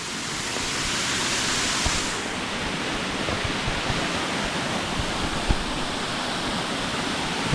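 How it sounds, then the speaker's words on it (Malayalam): Manneera Waterfall near Konni pours in a steady, dense roar of rushing water, loud and unbroken throughout with no voices. "അടിപൊളിയൊരു വെള്ളച്ചാട്ടം,"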